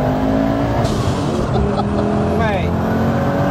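A 1000hp Audi 80 engine pulls hard in third gear under turbo boost, a loud, close, rasping roar with rising pitch sweeps, while someone speaks briefly over it.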